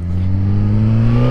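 A motorcycle engine revs up in a short rising burst, its exhaust note climbing steadily in pitch, loud and close with no talk.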